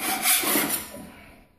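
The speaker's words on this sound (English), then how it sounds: "You just want to take your putty knife and scrape it right off" Putty knife scraping dried filler clumps off a wood floor before sanding, a close, brief rough rubbing scrape that fades out toward the end.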